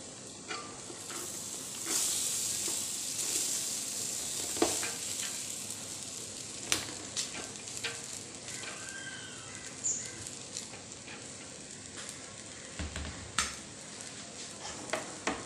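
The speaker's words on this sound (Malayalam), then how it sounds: "വേവിച്ച് വെച്ചിരിക്കുന്ന ചോറ് കുറേശ്ശെയായി മസാലയിലേക്ക് ഇട്ട് കൊടുക്കുക." Cooked rice tumbling into sizzling masala for egg biryani, a steady fry hiss with scattered soft clinks and stirring scrapes, close and fairly quiet throughout with no talk.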